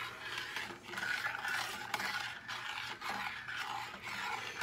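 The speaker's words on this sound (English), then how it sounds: "So I'll get that stirred up and the gravy" Continuous scraping of a spoon stirring chicken gravy in a pan, with steady rhythmic strokes up close and a faint hum underneath.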